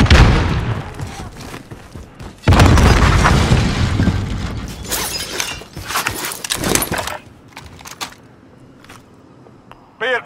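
A frag grenade explodes in the Call of Duty: Modern Warfare video game with a loud, sudden boom followed by scattered crackling debris and game effects, then further softer blasts and impacts trailing off.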